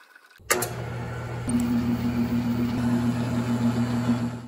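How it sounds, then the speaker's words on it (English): A drill bores into an aluminum bracket with a steady, close, motor whine that starts abruptly and continues with a slight shift in pitch, with no talking. "So I'm going to drill these 2 holes and then tap them"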